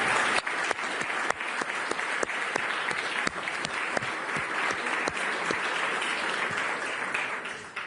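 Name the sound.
audience applause at ECB Forum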